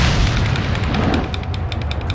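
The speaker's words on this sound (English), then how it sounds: "What if I throw an incendiary grenade?" An incendiary grenade going off in the horror game Resident Evil 4, a loud, dense roaring burst of fire and blast noise that stays sustained for about two seconds.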